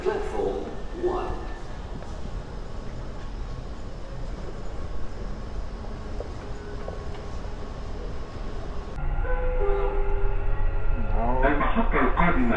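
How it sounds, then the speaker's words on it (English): A Dubai Metro train runs through a tunnel with a steady rumble, growing louder near the end as it heads overhead. A station announcement voice is heard over the ride. "The train to Center Point will arrive at platform 1."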